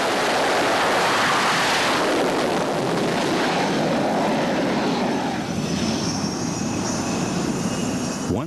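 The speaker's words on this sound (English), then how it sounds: "the thrust of the plane taking off in front of him" A loud, steady jet engine roar from a plane taking off from an aircraft carrier, with broad rushing noise, building and sustained throughout, with a rising high whine near the end.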